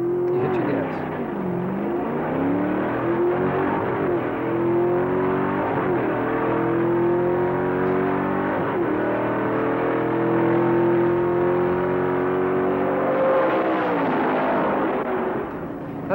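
A drag car revs hard and accelerates off the start line for a quarter-mile run. Its engine note climbs and shifts through several rising sweeps, loud and close, over about sixteen seconds.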